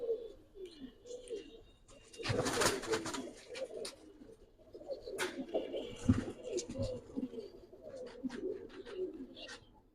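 Silver bezi giribaz high-flyer pigeons coo softly and repeatedly at close range, with scattered rustles, flaps and handling noise from the coop.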